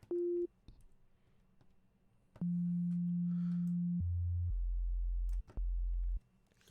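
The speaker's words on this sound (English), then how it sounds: "it starts with a sine wave, actually" Serum synthesizer producing plain sine-wave tones: a short mid note, then a long steady sustained tone, followed by lower bass notes that step down and cut in and out, loud and clean with no voices.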